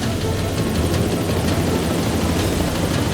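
A helicopter drones steadily throughout, its rotor chopping in a constant rhythmic thump, loud and close with no voices.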